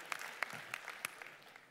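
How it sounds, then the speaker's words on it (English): A handful of scattered claps from an audience at a mind-reading stage show, sparse and faint, with single claps spaced out across a quiet room instead of a full ovation. "Give these gentlemen running around with the microphones a big round of applause, please."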